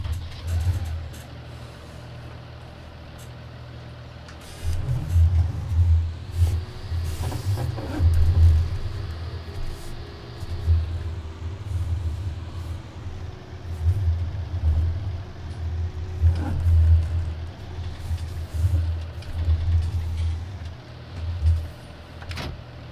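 A John Deere 7 series tractor engine idles and revs in a farming video game, a low steady rumble that swells louder partway through and holds with mild surges, with no talk.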